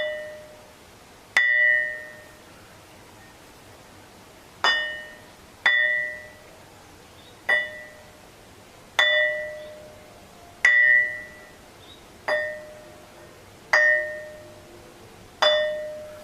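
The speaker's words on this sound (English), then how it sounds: "And that's how it rings." A piece of dark metamorphosed quartzite rock is struck again and again, each blow giving a clear bell-like ring that decays over about a second, with eight strikes spaced irregularly across a quiet background.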